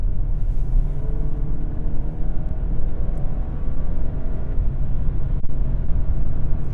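A 2.0 TFSI Audi A5 is driven, producing a steady low engine and road rumble inside the car. The sound is loud, continuous and droning, with no talk over it.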